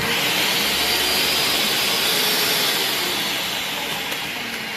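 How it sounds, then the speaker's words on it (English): A grinder or blender pulverizes dried coconut flakes into fine powder for coquito, a steady, loud, high-pitched whirring motor roar lasting a few seconds that eases off slightly toward the end. "I want to crush it and grind it to a finer powder if possible"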